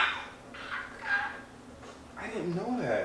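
A voice imitates a woodpecker with a few short, bird-like vocal calls, close to the listener, separated by brief pauses.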